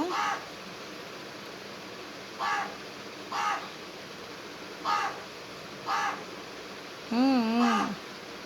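Several separate crow caws ring out over a steady hiss, ending in a longer, drawn-out wavering call.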